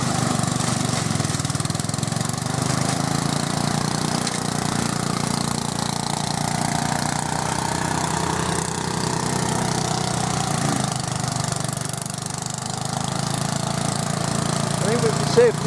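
A Briggs and Stratton garden tractor mower engine drones steadily and loudly throughout while mowing and mulching grass, with no pauses in the running sound.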